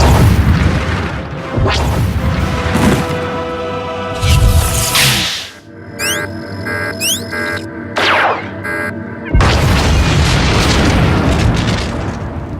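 Deathmark laser blowing up in a Star Wars Jedi Knight video game: loud roaring booms and rumbling blasts, then a gap with electronic whooshes, before another heavy sustained explosion.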